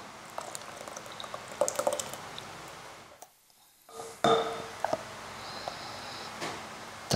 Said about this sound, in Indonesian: Kemudian kita masukin santan.